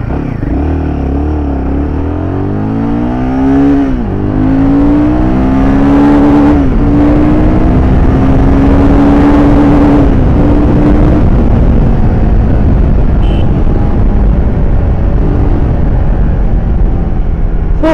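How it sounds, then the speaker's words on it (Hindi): A Royal Enfield Himalayan 450 motorcycle is ridden fast in sixth gear, its engine note rising and droning loudly and steadily, with a heavy rush of road and wind noise throughout. "So you can see how fast this bike goes, and it has got 6 gears"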